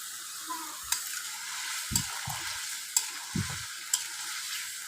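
Boiled beef is stirred into sizzling masala for a Bengali beef curry with taro, giving a steady close frying hiss broken by a few dull spoon knocks against the pan, with no one talking.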